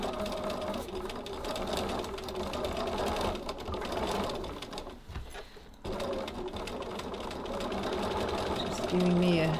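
A sewing machine stitches the base of a fabric tote bag at a medium stitch length, running in a fast, steady mechanical whir, pausing briefly midway and then resuming, with a voice talking over it.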